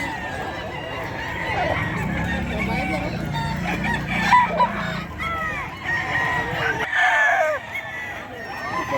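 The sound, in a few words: Boston Roundhead rooster crowing at a poultry market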